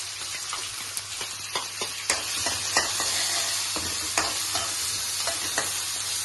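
Chopped onions and green chillies fry in hot oil with a steady broadband sizzle, broken by scattered sharp clicks and scrapes of stirring, close and moderately loud with no talking.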